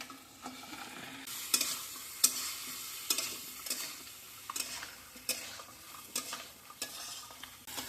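Potatoes and giant freshwater prawns fry in a pan outdoors after a pond fishing catch, a soft steady sizzle punctuated by repeated sharp scrapes and clanks of a spatula stirring every half second or so.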